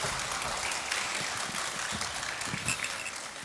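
Audience applause at a children's concert of young composers' works, a steady wash of many hands clapping in a hall, held at an even level throughout.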